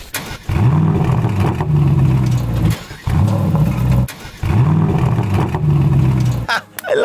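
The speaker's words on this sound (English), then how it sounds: "we have a special mode that we can use to start the car in a louder way" An SUV engine cranks and roars into a loud rev in a loud start mode, settles to a rumbling idle, then cuts off, three times in a row.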